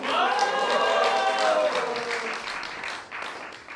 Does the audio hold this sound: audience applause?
yes